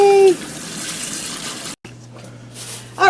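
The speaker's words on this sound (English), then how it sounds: "wash your hands really, really well with soap and water" Water runs steadily from a tap over hands during handwashing with soap, a continuous close hiss broken by a brief pause, with short bursts of a higher voice at the start and end.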